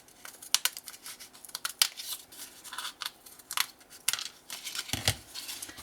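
Scissors snipping through paper for a scrapbook mini-album, a close run of short crisp cuts and light rustles with small pauses between strokes, no talking.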